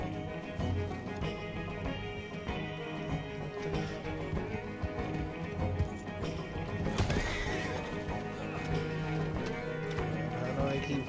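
Hooves pound in a fast galloping rhythm while a horse whinnies in the video game Red Dead Redemption 2 Online, layered within a dense, busy mix of other sounds.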